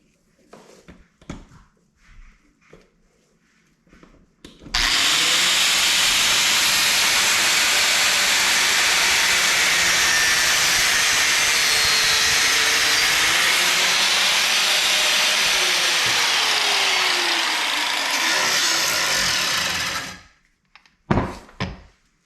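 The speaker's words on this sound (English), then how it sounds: "Spark up your sketchy grinder." Angle grinder cutting through a taped pipe, a loud, steady, hissing whine that starts abruptly, runs continuously for about fifteen seconds and cuts off, with quieter handling noises before and after.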